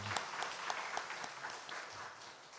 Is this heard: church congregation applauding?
yes